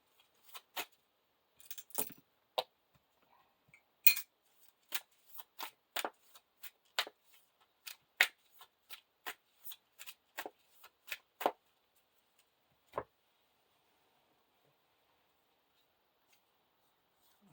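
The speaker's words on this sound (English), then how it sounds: "Well, first we have to shuffle this in." Playing cards for the Lord of the Rings living card game are shuffled in a series of crisp, snappy riffles and taps, close up, with short pauses between bursts.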